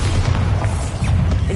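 The Bombarda blasting spell in Hogwarts Legacy on PS5 sets off a loud, sustained booming explosion with rumbling low-end debris throughout.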